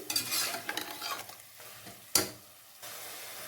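Tomatoes sautéing and being stirred in a pan for Tamil tomato rice: soft sizzling and scraping strokes, with one sharp utensil clack against the pan partway through.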